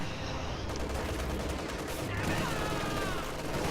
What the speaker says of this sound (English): MG 50 cal, I think